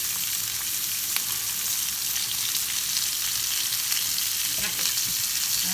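Onion sautés in a pan beside red cabbage for a plant-based breakfast, giving off a bright, continuous sizzle up close, with a few soft stirring knocks and no voices.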